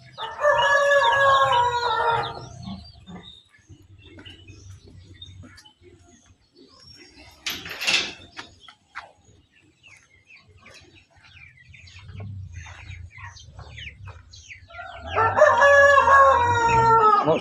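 Heritage breed chickens crow loudly and nearby, one full crowing call at the start and another at the end, with softer clucks and chirps scattered between them.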